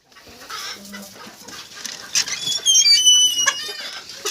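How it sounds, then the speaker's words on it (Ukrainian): Broody hens, crosses from a Cochin rooster, clucking while eating and drinking: scattered low clucks build into a louder run of rising calls, close and without talk. "А ті дві квочки їдять."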